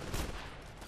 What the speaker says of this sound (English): See that turret's shooting at this Titan over here.